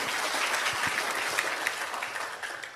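A large gathering breaks into applause, a thick, sustained wash of clapping that stays fairly loud and steady for a few seconds before tapering slightly.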